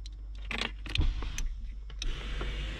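The power window motor of a Peugeot 605 car whirs and strains close up, mixed with clicks and small mechanical rattles from the door.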